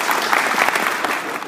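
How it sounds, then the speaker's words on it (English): A short burst of dense audience applause at a Hostess Brands ribbon cutting ceremony in Emporia, loud and close, with many hands clapping together. "So let's give a round of applause."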